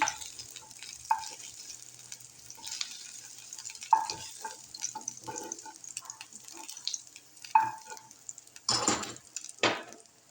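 Chicken pieces fry with spices in a pan, giving a faint sizzle that runs under intermittent stirring scrapes and a few louder clatters toward the end.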